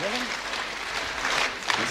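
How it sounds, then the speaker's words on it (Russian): A TV studio audience claps for singer Valentin Dyakonov on a 1991 Soviet song programme, a steady broadband patter of applause that carries through with a faint voice or music line under it. "вы в качестве аванса устроите ему бурные аплодисменты"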